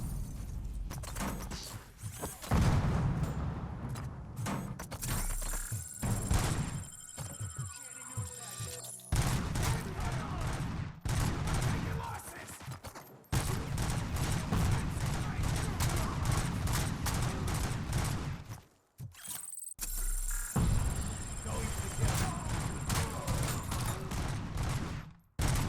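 Rapid, loud bursts of gunfire from RoboCop's standard-issue sidearm in the RoboCop: Rogue City video game, firing in dense near-continuous volleys with brief pauses between strings of shots, mixed with game effects and some voice.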